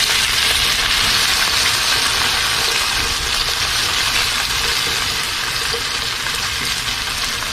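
Potatoes frying in a pan, a steady broad sizzle holding evenly throughout, close and fairly loud with no voices.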